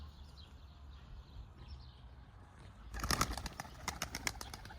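Quiet outdoor hum gives way to a rapid flurry of wing flaps and clattering as pigeons land close by.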